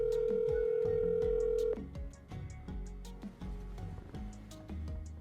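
An outgoing phone call: a steady ringback tone holds for under two seconds, then gives way to a busy, rhythmic musical passage that continues to the end.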